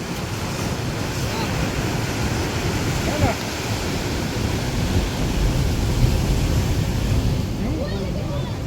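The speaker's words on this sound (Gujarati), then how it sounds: "જો મિત્ર મોજો આવે" Sea waves breaking on the shore near Somnath on the Gujarat coast, a steady loud wash of surf mixed with wind buffeting the microphone, continuous for the whole stretch with no speech.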